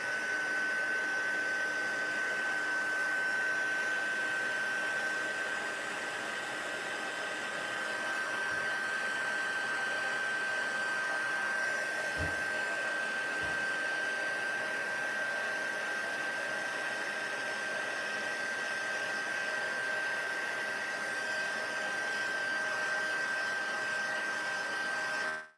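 A heat tool for embossing blows a long, constant airy roar with a thin steady whine while warming an embossed card, holding even loudness for the whole span, with a couple of soft knocks and no talking.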